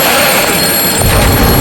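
A telephone rings loudly and continuously in a horror drama scene, a bright steady bell tone with no voices over it.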